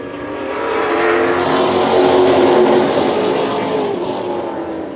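Race cars accelerating past on a racetrack, two running wheel to wheel, make a loud continuous engine roar that swells as they pass and then eases slightly as they pull away.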